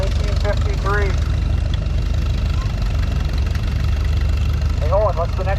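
A Farmall Model M wide-front tractor, built between 1939 and 1952, idles at an outdoor tractor show in Ellison Bay, Wisconsin. Its steady low engine rumble runs throughout while voices talk over it.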